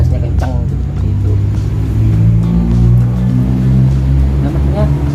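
Cars and buses climbing a steep uphill road with engines revving hard, a loud, steady low rumble of several vehicles close by, shifting in pitch as they pass, with a voice speaking over the traffic.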